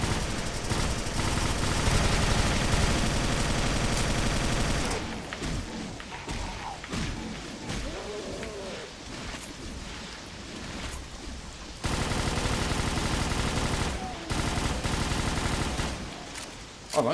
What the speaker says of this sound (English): I like this machine pistol.